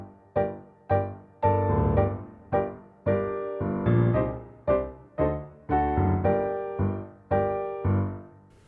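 A tango rhythm in a minor key is played with rigid, on-the-beat accented chords that strike and decay in a steady pattern, moderately quiet and with no talking.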